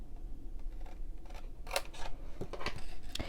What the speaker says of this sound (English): we're going to cut it right here.